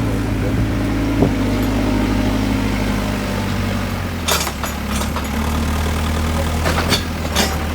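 A tractor engine hauling soil in a village yard gives a steady low rumble throughout, close and continuous, with a few brief clanks and rattles near the end.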